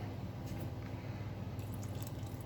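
A short, steady pour of water runs into a mixing bowl of dry dough mix, continuous and close, with no voices.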